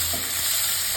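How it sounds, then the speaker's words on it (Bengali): Chopped onions fry in oil and ghee for a fish-head murighonto, a short, steady sizzle close up with no talk. "পেঁয়াজ ভাজাটা আমার হয়ে গেছে"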